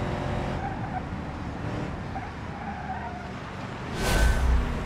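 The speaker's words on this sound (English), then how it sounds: "You drift past somebody." A car drifting past another car in BeamNG, a steady rumbling engine and tire noise with a skidding surge near the end, close and loud without talking.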